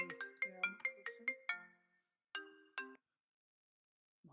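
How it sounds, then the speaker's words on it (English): A phone ringtone from an incoming call plays a quick melodic run of bright synthetic tones, then two more notes after a short pause, clear and fairly quiet in an otherwise silent room. "I'm getting a phone call right now from a scam person."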